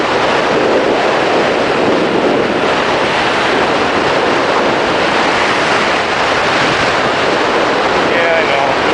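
Wind roars and buffets steadily against the microphone while riding a bike, a constant loud rushing with no break.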